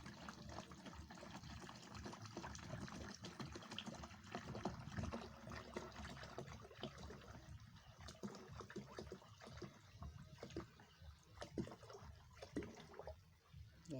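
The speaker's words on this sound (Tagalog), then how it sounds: "Lipat natin dito sa lalagyan." A gallon of water poured from its jug into another container, a steady close splashing trickle that continues throughout, moderately loud with fluctuating gurgles and no talk.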